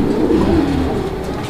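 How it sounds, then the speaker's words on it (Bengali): Giribaz satin pigeons coo in a low, steady, throaty drone, close and fairly loud, with a soft flutter mixed in. "কবুতর লাফাঝাপা করতেছে"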